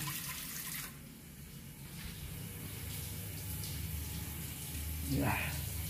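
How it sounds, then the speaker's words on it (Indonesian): Tap water runs steadily into a sink indoors, a constant broadband rush with a brief louder splash near the end. "airnya mengalir terus guys"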